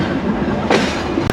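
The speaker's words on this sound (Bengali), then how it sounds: "এই মুহূর্তে আমরা ছেড়ে যাচ্ছি ঝিনাইদহ জেলার কোটচাঁদপুর রেলওয়ে স্টেশন" The red-and-green Rupsha Express pulls out of Kotchandpur railway station in Jhenaidah, heard from on board as a close, steady rumble of carriages with a brief clatter of wheels near the end.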